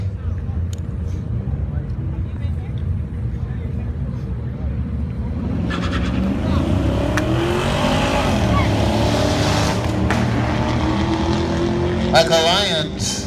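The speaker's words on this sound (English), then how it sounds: "Michael Lyons out front early and holds on for a close one" A Subaru and a Corvette make a drag racing run, with a loud engine roar that builds and swells partway through as the cars pass, all under continuous announcer commentary.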